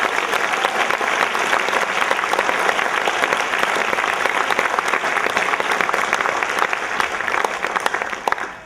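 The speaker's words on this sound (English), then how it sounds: "How about a round of applause for these great kids on the stage?" Audience applause for children performing on stage at a massed band concert, a dense, steady wash of clapping filling the whole stretch at full strength before tapering slightly at the end.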